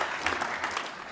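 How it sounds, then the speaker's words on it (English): An audience at an indoor reception claps in a dense, steady round of applause, fairly close and sustained without pause. "Give him a round of applause."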